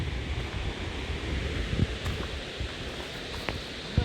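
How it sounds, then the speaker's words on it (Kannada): Water rushes steadily near a waterfall along a walking trail, a broad continuous hiss with occasional faint knocks and rustles, fairly close and without voices. "ನೀರಿನ ಸೌಂಡ್ ಕೇಳಿಸ್ತಾ ಇದೆ ಇಲ್ಲಿ"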